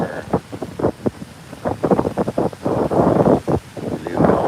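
Wind buffets an outdoor microphone during a morning of bass fishing with ducks around, a rough, gusty rumble that rises and falls in irregular bursts, loud and close throughout.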